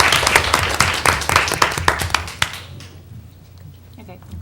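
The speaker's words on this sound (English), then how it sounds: "you all should deserve a hand clap of praise" Audience at a school board meeting breaks into brief clapping, a burst of hand claps for a couple of seconds that fades out into quiet room tone.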